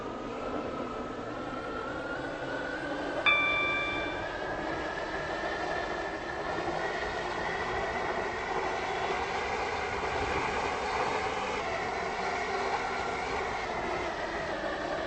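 A Class 730 train running in the Roblox game Stepford County Railway, a steady rolling electric hum and drone with a brief tonal chime early on, continuous and even throughout.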